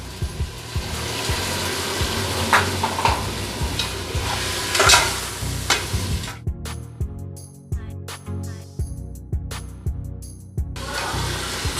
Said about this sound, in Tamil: நறுக்கி வச்ச தக்காளி போட்டு நல்லா மசியும் வர வதக்கிக்கோங்க